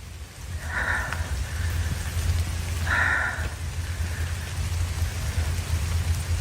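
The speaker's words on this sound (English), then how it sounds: "I think it's rain." Rain falls in a steady, even hiss outdoors at night, with a couple of faint brief mid-pitched sounds rising over it.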